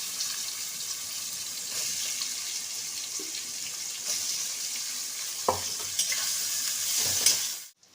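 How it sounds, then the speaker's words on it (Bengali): Onions sizzle steadily in hot oil with whole cardamom, cloves, cinnamon and bay leaf for a spicy mutton curry, with a few clinks of stirring. "এবার আমি পেঁয়াজগুলো দিয়ে দিচ্ছি"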